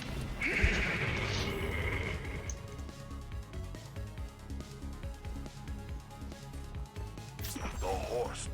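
A horse whinnies loudly in a video game, clear at first over busy game music and clip-clop hoofbeats, with a crash and a player talking faintly beneath.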